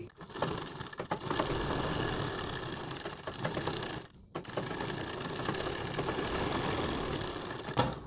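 A sewing machine stitches a buckram suit neck, running in a fast, steady whir with a brief pause midway before resuming, close and clear with no talking.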